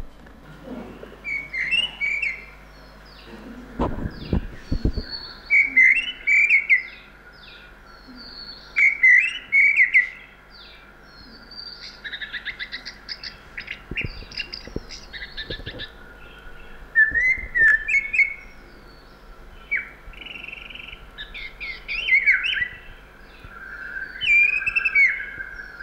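Recorded bird song with buzzing courtship notes: repeated bright whistled phrases, each trailing into a short buzzy chatter, come in regular bursts over a quiet background, with a few low thumps early on.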